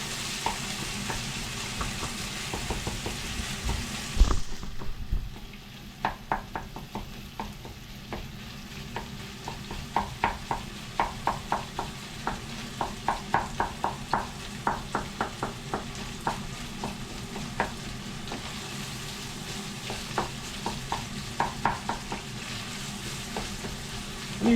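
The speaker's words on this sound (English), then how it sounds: "Starting to hear some frying." Onion frying in a pan, a steady close sizzle running throughout with repeated light scraping and stirring taps after a brief louder clatter near the start.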